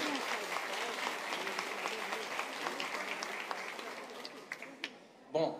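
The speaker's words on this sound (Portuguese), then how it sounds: "Uma mega salva de palmas para Wagner Borges." A crowd at a ufology event gives Wagner Borges a round of applause, a steady wash of many clapping hands heard from a distance that thins out and fades near the end, followed by a brief knock.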